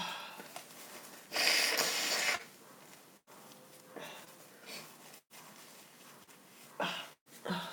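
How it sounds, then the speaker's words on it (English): Nose blowing by someone with a cold: a loud, forceful burst of about a second, then quieter sniffs and shorter blows, close and alone without talk. "time to blow my nose"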